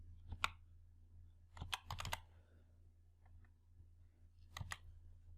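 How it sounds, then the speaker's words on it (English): A computer keyboard is typed on in short, quiet clusters of key clicks with small gaps between them, close and faint over a low steady hum. "Type the name of cell reference in cell reference box."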